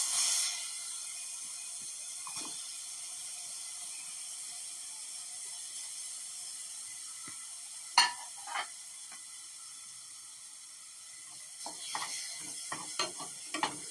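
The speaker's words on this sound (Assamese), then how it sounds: "এইখিনি ধুনীয়াকৈ ভাজিব লাগিব এতিয়া" Grated carrots fry in a hot pan, giving a soft, steady sizzle with occasional scraping stirs of a spatula near the end; fairly quiet and close, no voices.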